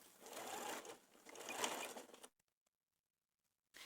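A sewing machine stitches facings on baby dungarees in two quick bursts of rapid mechanical chattering, then stops into near silence before a brief restart at the end.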